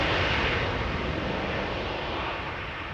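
A British Airways Airbus A321 jet roars steadily through its takeoff run at Amsterdam Schiphol Airport, a loud, broad, continuous engine rumble that eases slightly toward the end, with no voices.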